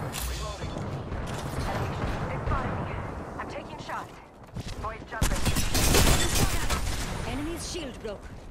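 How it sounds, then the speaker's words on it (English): Enemy gunfire in the battle royale game Apex Legends, a dense stream of shots and impacts that swells and fades across the stretch, mixed with game mechanisms and voices talking over it. "The enemies are shooting at me."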